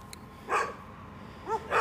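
A small dog yaps three times, short sharp barks at moderate distance, with a pause between the first and a quick pair near the end, outdoors at night in the bush.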